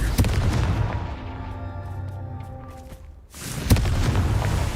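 Confringo fire spell explosions in Hogwarts Legacy: a sharp booming blast that fades into a ringing, decaying tail, followed by a second bang and renewed rumbling.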